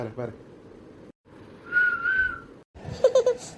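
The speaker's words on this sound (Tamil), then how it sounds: "என்ன விசில்லாம் அடிக்கிறீங்க என்ன?" A person whistles a short, rising-and-falling tone to call someone, heard fairly close and clear amid light background noise, followed by a quicker run of shorter whistled notes.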